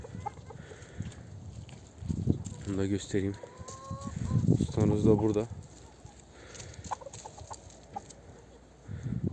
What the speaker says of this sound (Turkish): burada sultan horozumuz var